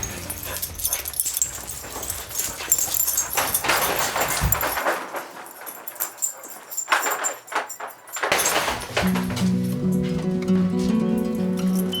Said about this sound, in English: 3 dogs. They're Brittany's.